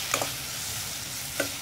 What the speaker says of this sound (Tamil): மிளகாத்தூளை இந்த எண்ணெயிலே ஒரு 1 நிமிஷம் வதக்கிக்கலாம்.